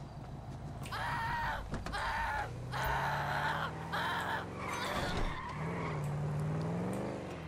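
A Duke muscle car in GTA V revs and drives with its engine note rising and falling, broken by bursts of tire skidding and squealing, loud and close with no speech.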